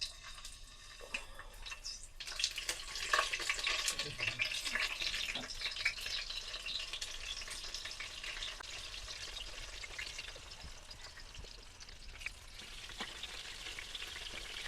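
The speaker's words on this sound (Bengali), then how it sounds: "এখন এই দেখেন পটলগুলা কিভাবে ভেজে নিব।" Pieces of pointed gourd (potol) fry in hot oil in a wok, giving a loud, continuous crackling sizzle with occasional stirring, and no voices.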